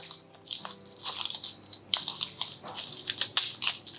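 A pepper mill grinds black pepper over a chicken, pea and leek traybake with baby potatoes, giving a run of dry, gritty crunching bursts close by with no talking.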